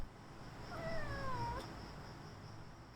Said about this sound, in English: I had no idea my cat was inside.